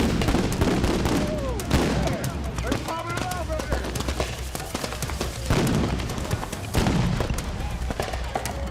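Sharp explosive bangs from flash bombs thrown during crowd dispersal in Ferguson go off repeatedly amid a noisy street crowd, with shouting voices and a dense background roar between the blasts.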